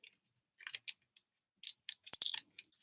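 Adhesive tape is pulled and pressed onto folded paper for a craft project, producing short dry crinkling and tearing bursts in quick clusters, close and quiet with silence between.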